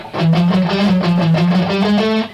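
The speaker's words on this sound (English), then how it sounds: "So if you translate this pattern into the chromatic shape, it would sound like this." Rock electric guitar runs a fast chromatic sequence pattern with big left-hand position skips, a steady stream of close, loud picked notes stepping upward.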